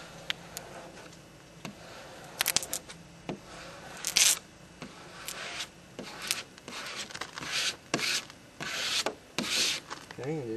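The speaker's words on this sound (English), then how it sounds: "I'm going to start in the middle with my squeegee. Go down, like that." A squeegee smooths a vinyl decal onto a vehicle, producing intermittent close rubbing swipes and squeaky strokes in irregular bursts.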